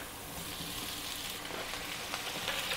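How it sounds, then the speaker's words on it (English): Onions frying in olive oil for a vegetable carbonara give a steady, even sizzle throughout, close and moderately loud, with faint stirring crackles and no talking. "love the smell of onion frying in olive oil"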